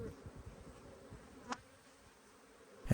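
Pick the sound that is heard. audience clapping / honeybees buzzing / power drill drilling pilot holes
honeybees buzzing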